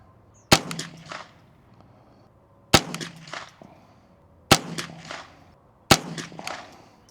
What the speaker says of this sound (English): Let's shoot a group at the top left target.